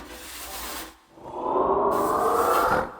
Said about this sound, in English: what you're hearing is sort of the air escaping around the edges of the cylinder inside the tube